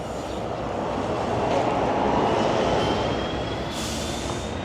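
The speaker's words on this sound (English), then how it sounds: "There goes plane landing." An airplane comes in to land over a South Boston street near Broadway, a loud, steady jet roar with a slowly rising whine that holds for several seconds and fades slightly at the end.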